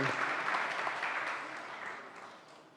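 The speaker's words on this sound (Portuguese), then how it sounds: "Podemos aplaudi-los mais uma vez" An audience at an installation ceremony for affiliated-organization presidents applauds in a soft, fairly distant wash of clapping that gradually fades over a few seconds.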